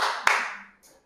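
A class of students clapping hands together in a classroom, a single short burst of applause that quickly fades out.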